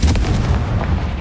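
A Confringo blast spell in Hogwarts Legacy explodes in a single loud, booming burst with a rumbling tail, heard alone.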